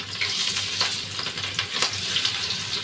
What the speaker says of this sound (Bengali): তেলটা গরম হওয়ার পরে তো মাছগুলো দিয়ে দিচ্ছি।